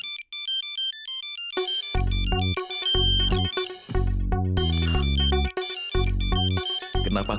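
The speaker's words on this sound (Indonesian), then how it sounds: "Telepon dari Tuan Whiteman" A phone ringtone plays loudly and alone, a bright electronic melody of repeating tonal phrases over a deep, pulsing bass.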